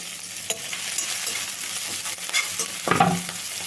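Finely chopped green chillies sizzle lightly in a pan, a soft continuous frying hiss broken by scraping stirs and a louder clatter near the end, heard alone without speech.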